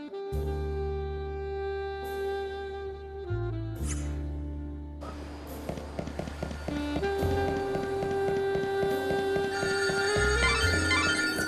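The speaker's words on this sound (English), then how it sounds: "The phone." Telephone ringtone in Lightning Returns: Final Fantasy XIII, a repeating tonal melody that plays steadily and fairly loud over game music for the whole stretch, with no talk.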